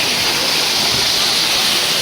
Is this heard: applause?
no